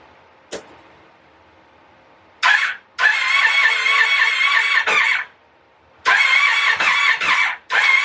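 Car starter cranking a project car's engine in loud bursts after a new battery went in, with a click first and then repeated grinding crank attempts separated by pauses; no clear catch into a running idle.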